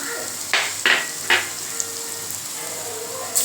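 Crushed garlic and green chillies hit hot oil in a pressure cooker, giving a steady close sizzle with three sharp bursts of crackling as pieces drop in and get stirred.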